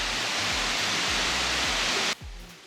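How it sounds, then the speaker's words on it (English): A steady, loud roar of rushing falling water from a Swiss waterfall fills most of the clip, then drops away abruptly near the end, leaving quieter rumble. "Let's walk under the waterfall."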